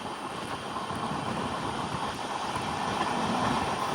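An Amrit Bharat Express sleeper train runs through Kanhangad railway station without stopping, giving a steady, loud, broad rumble that holds evenly and swells slightly toward the end.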